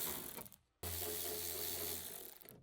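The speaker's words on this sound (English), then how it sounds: "With the small electric impact wrench, remove the retaining screws for the bracket." Small electric impact wrench with an 8mm deep socket backs out bracket retaining screws on a Ford F-150 front door window regulator, giving two close, loud bursts of whirring, rattling motor noise split by a short pause.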